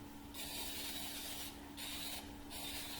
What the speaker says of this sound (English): Before I even start messing with it, I'm gonna spray my pan.